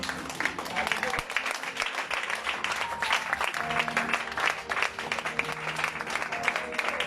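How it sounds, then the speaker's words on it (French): A church congregation claps and cheers to acclaim the Lord, a steady continuous burst of applause mixed with crowd voices and talk throughout. "Est-ce que tu peux te tenir debout pour acclamer le Seigneur?"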